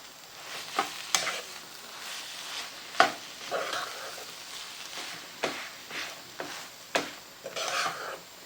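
A vegetable mixture with potatoes being stirred in a pan for Kolkata-style vegetable chops, with a spoon scraping and clinking in irregular strokes over a faint sizzle, close and moderately quiet, no talking.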